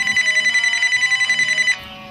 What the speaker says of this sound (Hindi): अरे मोदी जी का फोन आ गया।